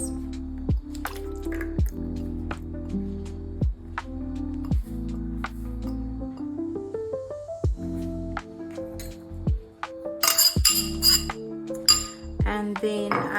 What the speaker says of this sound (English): for the wet ingredients, I'm going to use my oil and butter mix